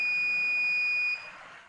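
A continuous electronic tone comes from an Arduino buzzer wired into a flame-sensor circuit, steady and loud for just over a second before it stops and only faint room noise remains.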